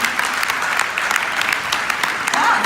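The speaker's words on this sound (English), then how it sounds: "this is unabashedly to get applause" An audience at a hall of fame induction ceremony applauds steadily throughout, a dense wash of clapping that swells slightly toward the end.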